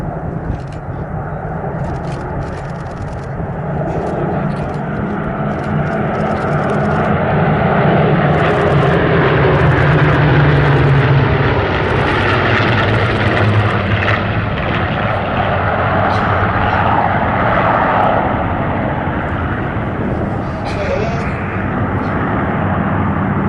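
Suffolk Spitfire RW382 flown in formation at an airshow, its piston engine droning loud and steady for the whole stretch, swelling to a peak in the middle before easing slightly.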